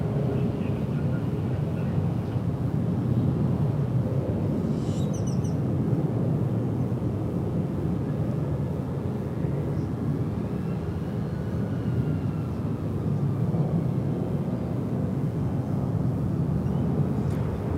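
American Airlines flight 1232 lands on runway 18 left at DFW Airport, a steady, broad jet roar that holds for the whole stretch at moderate distance with no talk.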